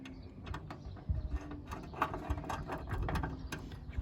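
Ratcheting clicks from tightening a 10mm nut on a bonnet gas strut ball joint on a Ford Fiesta Mk7, a steady run of close, dense mechanical ticks with no talking.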